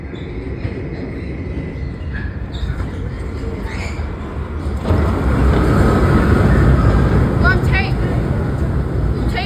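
A New York City subway D train running on the F line toward Coney Island–Stillwell Avenue from Kings Highway gives a steady rumble that grows louder about halfway through, with faint voices in the background.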